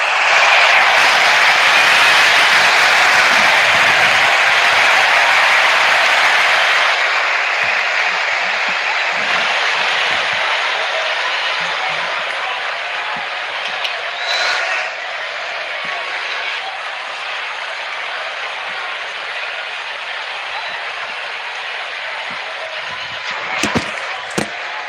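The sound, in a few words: crowd cheering openers in cricket video game RC24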